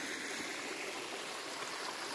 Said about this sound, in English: Now that's what I call a gushing spring pipe.